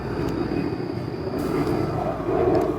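A low, broad airplane engine rumble drones steadily as the aircraft passes overhead, loud and sustained with a slight swell toward the end.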